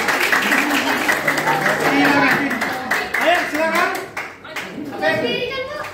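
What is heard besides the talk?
class clapping hands for a presenting group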